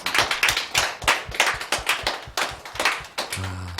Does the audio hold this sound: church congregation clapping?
yes